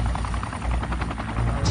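Air Force Chinook heavy-lift helicopters fly close and loud, their rotor blades throbbing in a fast, steady chop through the whole short stretch.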